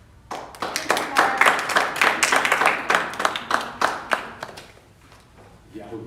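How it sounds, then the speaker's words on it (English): Applause at a 2021 JV hockey award ceremony as a player is called up, a brisk run of hand claps from a small crowd that builds, holds steady, then thins out toward the end. "So come on up and give yours a cheer."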